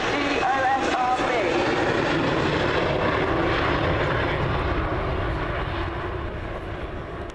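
A Boeing 727, registration G-OSRB, flies past at an air show in landing configuration just above landing speed, giving a loud, steady broadband jet roar that fades slightly toward the end.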